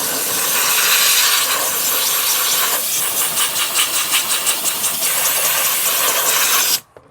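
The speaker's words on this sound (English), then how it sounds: "and then I'm gonna steam it, just to remove any type of buildup" A steam cleaner blasting a car interior to lift buildup, a loud steady rushing hiss with a pulsing rhythm in the middle, cutting off abruptly near the end.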